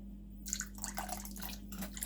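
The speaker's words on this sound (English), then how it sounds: "I'm gonna add some white vinegar to the water" White vinegar is poured into a bowl of water for washing pork pigtails, giving a short, faint run of splashing and dripping over a low background hum.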